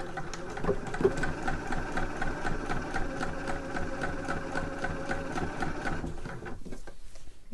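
Sewing machine stitching along the edge of a trouser leg, a steady rapid mechanical whirring and ticking running continuously and close, then stopping just before the end.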